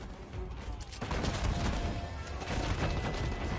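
Cathay handgunners firing a volley in Total War: Warhammer 3, a dense crackle of overlapping gunshots that swells and rolls on through the whole stretch with no talk over it.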